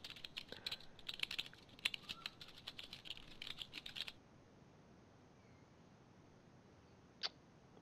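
Keyboard typing in a video game as the character browses the internet, with rapid, fairly close clicks and clacks in irregular bursts that stop partway through, leaving near silence apart from one later faint click.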